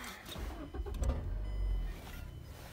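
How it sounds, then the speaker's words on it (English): A manual-transmission car engine cranks and catches with the clutch pressed, a deep low rumble swelling over about a second, then settling into a steady idle, close by. "you push the clutch all the way down and you just start the car."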